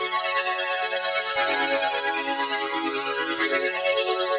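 A sustained synth pad loop in a house track, pitched up four semitones, with shimmering layered tones that shift chord partway through, smooth and steady, close and alone.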